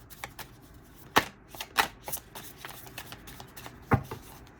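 Tarot cards being shuffled to draw a single clarifier card, a run of soft papery riffles and slaps with a few sharper snaps, close and alone with no talk.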